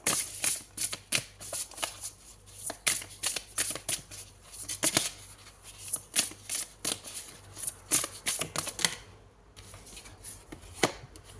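Tarot cards are shuffled by hand in a quick run of crisp riffling bursts, close and clear against a quiet room, then a brief pause before a final flick.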